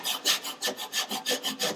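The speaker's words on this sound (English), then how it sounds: "And then I can take my saw, just let it sit right on that little curve in there" Hand saw cutting a dovetail joint in wood, a steady rasping stroke about every third of a second, close and alone, with no talking.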